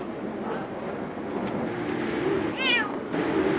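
A cat meows once clearly, a rising-falling cry heard close over a steady background hum, with no talk.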